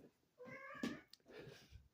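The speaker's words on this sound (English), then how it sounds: "my cat's meowing" A pet cat meows indoors, giving two short, fairly quiet calls, the first clearer and more drawn out than the second.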